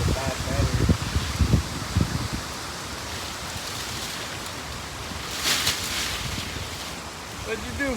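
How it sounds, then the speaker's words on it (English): Strong wind storm gusting through backyard trees, a broad steady rushing with occasional louder surges and bursts of rustling, close and continuous, with a few low thumps and brief voices underneath. "Windy. Wind."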